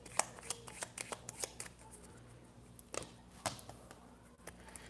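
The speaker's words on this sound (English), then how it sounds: "Let's give these decks a really good shuffle." Rapid riffle-shuffles of a deck of cards, crisp bursts of flicking and snapping, repeated several times close up in a quiet room.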